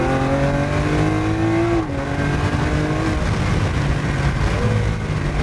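A 2015 Lamborghini Aventador Roadster's engine revs hard, its tone climbing steadily before a sudden dip partway through, as if shifting gear, then pulling on again loud and close with no voices.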